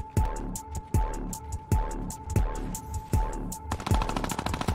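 Rapid bursts of automatic gunfire from a fight in the video game Fortnite, several loud volleys in a steady rhythm with a constant tone running under them, no talking.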